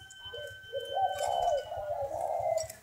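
Spotted doves at a breeding farm coo in a soft, rolling, repeated call, close and clear with no talk over it.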